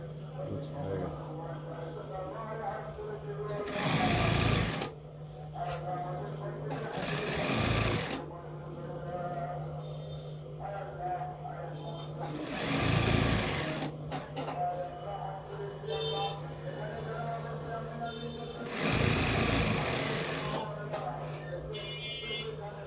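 Sewing machine stitching over elastic on a salwar, four loud bursts of rapid whirring with quieter gaps between them, close by, while someone talks throughout.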